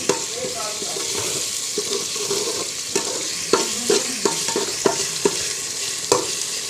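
Turnip browning in a frying pan with ginger-garlic paste, a continuous sizzle under repeated scraping and stirring strokes with a few sharp clacks of the spoon against the pan, close and fairly loud.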